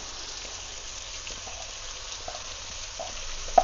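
Chopped cabbage from half a head sizzles in a hot pan as it starts to fry, a steady, faint crackling hiss throughout with a few light clicks, no voices.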